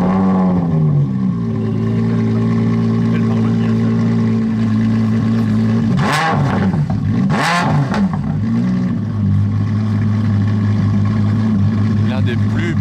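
A Porsche 997 GT3 sports car engine drones loudly and steadily on a Paris street, swelling in two brief rev bursts around the middle while a voice talks over the engine.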